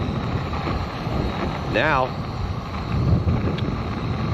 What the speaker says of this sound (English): You can hear how windy it is. It's crazy windy.